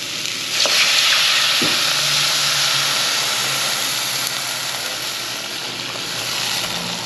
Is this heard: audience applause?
no